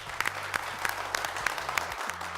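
Studio audience clapping steadily to welcome contestants onto a Tamil television game show, a dense continuous patter of many hands with quieter music tones underneath.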